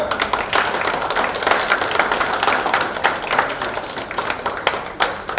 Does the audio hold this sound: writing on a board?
no